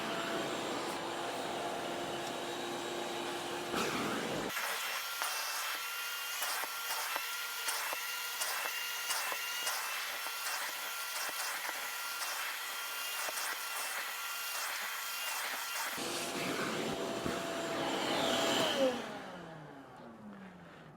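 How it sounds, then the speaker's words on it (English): A shop vac roars loudly and steadily for about ten seconds while cleaning an AC air filter, starting with an abrupt jump in level and then shutting off and winding down. "let's go ahead and vacuum. And I'm just using my shop vac here."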